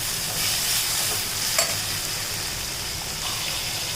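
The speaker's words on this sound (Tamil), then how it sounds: "கொஞ்சம் தக்காளி, எல்லாம் சேர்த்துட்டு நல்லா வதக்கிக்கோங்க." Tomatoes and onions sautéing in a pan for quail gravy, a steady broadband sizzle with soft stirring scrapes throughout, close and fairly loud, no voices.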